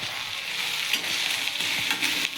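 Boiled noodles frying in a pan of tempered oil give a dense, continuous close-up sizzle with faint stirring, and no voices.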